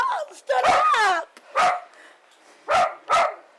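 A dog gives several sharp barks and yips in separate bursts, fairly close, with quiet gaps between them.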